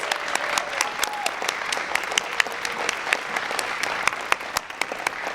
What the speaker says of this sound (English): Let's all give another round of applause for these amazing young writers.